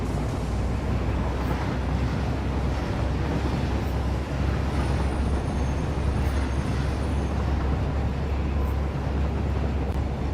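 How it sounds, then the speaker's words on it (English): Two trains run on a spiral track in the Satisfactory video game, giving a steady, continuous rumble with no breaks or talk. "Two trains on the spiral."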